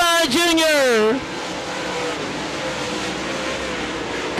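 Modified race cars at Devils Bowl Speedway, a Texas Outlaw Modified Series event on a dirt oval: a loud engine whine sweeps down in pitch as a car passes close, then settles into a sustained distant roar of the field under an announcer's voice.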